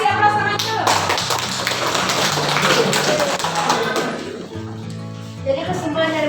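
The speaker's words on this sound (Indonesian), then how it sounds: "Kasih aplaus teman dulu." Classroom applause for a student group in an Indonesian class: a burst of many hands clapping together for several seconds, with children's voices and talk mixed in, fading as a teacher speaks.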